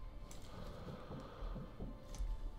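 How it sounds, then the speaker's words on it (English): Heartbeat of a sniper character in Sniper Elite V2, a low muffled thumping pulse repeating at a quick, steady rhythm under a faint hum. "my heartbeat is way too high for this"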